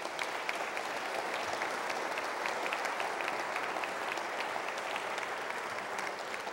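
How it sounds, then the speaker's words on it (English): Sustained audience applause at a university state-of-the-university address, a dense steady wash of many hands clapping throughout at even loudness, with no speech over it. "Let's give them a round of applause."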